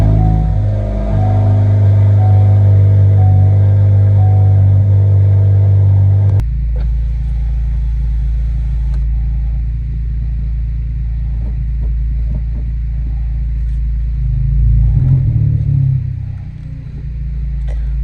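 A Honda Civic Type R FL5 engine rumbles and revs up loudly at close range for several seconds, then settles into a lower, steady idle with a brief swell near the end.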